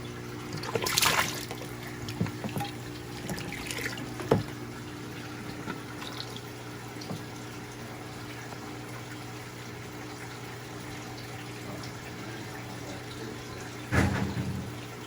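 Water runs steadily into a fish tank with a faint continuous gush, with occasional louder splashes and clunks near the start and end.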